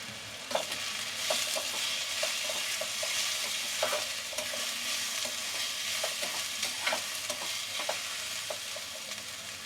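Onion frying with turmeric in a pan for dill leaf bhaji, a constant soft sizzle spotted with frequent small crackles and stirring taps, fairly quiet and close.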